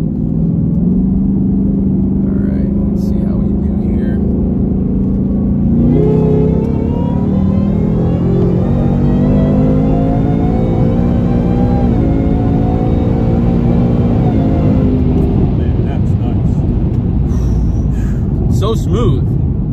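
Supercharged 3.0 Whipple Mustang accelerating hard on a track, its engine note rising steadily as it pulls through gears, loud and close inside the cabin, with people talking over it throughout.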